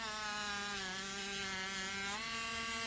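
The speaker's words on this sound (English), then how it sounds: "But I really need my stronger Dremel because this is really not strong enough." Dremel rotary tool grinding a polymer clay pendant, a steady high-pitched motor whine with harmonic buzz that runs unbroken throughout, close and fairly loud, with no talking.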